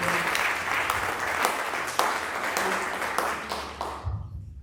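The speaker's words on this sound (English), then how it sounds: "can we get a warm welcome of applause for Dr. J. Burns this evening?" A church audience breaks into warm, sustained applause welcoming a speaker, then the clapping cuts off abruptly near the end.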